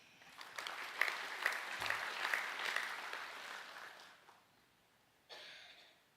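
An audience at an academic awards evening applauds: a dense, moderately loud patter of many hands that fades after a few seconds, followed by a short final burst.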